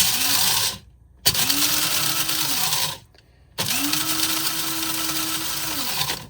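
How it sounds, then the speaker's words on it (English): A brand-new electric grinder grinds coffee beans in loud whirring bursts: a short burst, a brief pause, another burst, a second pause, then a longer steady run of motor noise with no talking. "So I got my beans in. Let's see how long it takes to grind them."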